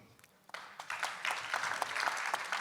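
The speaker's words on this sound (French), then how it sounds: "On peut l'applaudir, merci." Applause builds from scattered claps into a full, sustained round from a crowd in a room.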